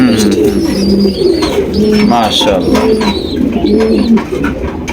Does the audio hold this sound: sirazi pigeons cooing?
yes